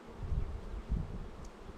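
Honey bees crawl over a hive frame that is completely covered with bees but holds no honey yet, their close, steady low buzzing drone swelling in soft waves.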